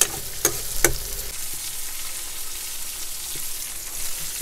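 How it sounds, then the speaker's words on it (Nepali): Salted meat sizzles and fries in a hot pan in a Nepali village kitchen, a steady close crackle broken by a few sharp scrapes and clinks of stirring. "यसरी मजाले भुट्नेछु एकछिन।"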